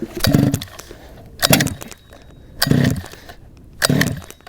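Four rhythmic yanks of a pull-start cord on a large gas RC monster truck's small engine, each a whirring rasp of the recoil starter, evenly spaced and close, without the engine catching.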